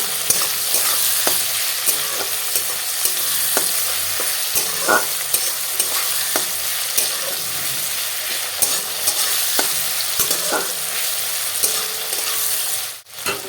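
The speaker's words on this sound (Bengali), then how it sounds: "রসুন দিয়ে দিচ্ছি কষিয়ে নেব" Garlic frying in a pan for a fish and brinjal curry gives a dense, continuous loud sizzle with occasional spoon clicks and scrapes, close up. The sizzle cuts off abruptly near the end, and no voices are heard.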